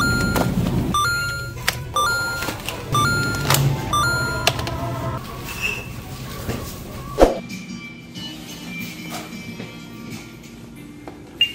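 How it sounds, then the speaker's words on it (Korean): Repeated short electronic warning beeps from a vehicle, evenly spaced over engine and road rumble, fading into quieter background noise later. "이렇게 스무스하게 넘었는데 왜 삐삐거리는 거야?"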